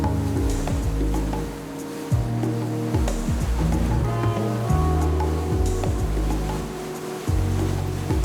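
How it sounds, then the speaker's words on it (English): Sea waves wash and break around a small long-tail boat on a tour of the Phi Phi Islands. A steady churning rush of water and engine rumble continues throughout with no talk. "breaking the waves on our small long-tail boat"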